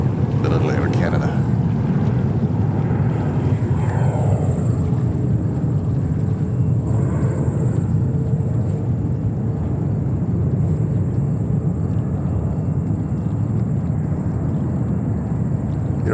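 An Air Canada Embraer 175 jet airliner at JFK Airport produces a steady, loud rumbling roar with a whining tone layered on top, continuous for the whole stretch, as a person talks intermittently over it.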